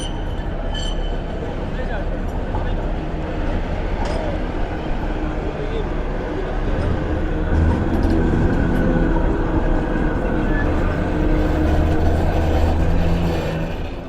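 Trams and buses rumble through Piccadilly Gardens in Manchester, a steady loud urban roar with rail rolling and engine drone building toward the end, busy city noise throughout.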